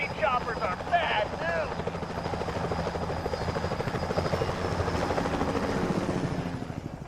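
Security helicopters in the video game Sly Cooper: Thieves in Time whir with a steady rotor chop under excited voices talking.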